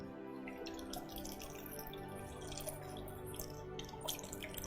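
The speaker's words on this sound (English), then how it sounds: "how do most people normally wash their produce? Just under the tap water." Tap water running and dripping over produce in a sink, a steady close trickle with scattered drips throughout.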